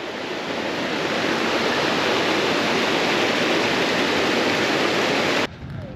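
A small river rushes over stones and swirls through eddies, a loud, steady broadband roar heard close by, dropping abruptly in level near the end.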